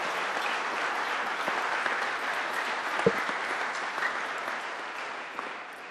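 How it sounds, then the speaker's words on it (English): A high school auditorium crowd gives steady applause for a football guest at an NFL presentation, an even wash of clapping held throughout with one brief louder knock near the middle. "Let's have a big round of applause for Rick Taylor."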